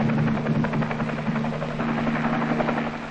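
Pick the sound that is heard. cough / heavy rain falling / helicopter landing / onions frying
helicopter landing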